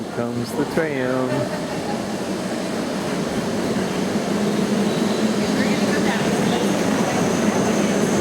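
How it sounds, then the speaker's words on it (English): A tram arrives at an open-air station in Hawaii, giving a steady rumbling roar that swells slightly as it nears. A tonal chime or horn sounds briefly near the start. "Here comes the tram."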